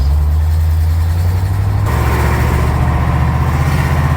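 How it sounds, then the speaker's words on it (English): Car on a test drive over speed bumps with solid body mounts fitted, a loud, steady engine and road rumble filling the cabin, with a shift in the drone partway through. "we're doing the test drive. First test, speed bumps"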